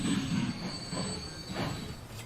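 An early steam locomotive in the video game Transport Fever 2 rolls along with a low rumble of rail wheels and a faint high squeal, quiet and steady, with soft rhythmic chuffs.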